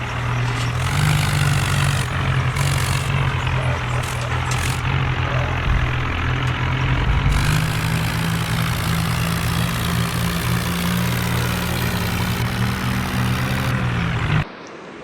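A vehicle engine drones steadily and loudly as it slowly hauls a tractor loaded onto a trolley toward town. The low, continuous hum holds nearly unchanged until an abrupt cutoff near the end.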